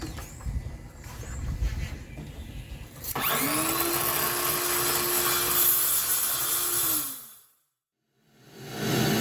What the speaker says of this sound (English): giving a quick once over with a heavy grit, boy, that epoxy just wants to grab it